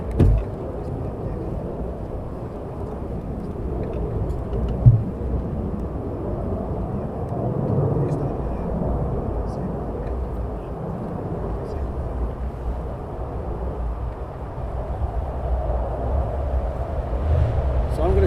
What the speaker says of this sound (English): the second one, which is an F-35, is going to do a low approach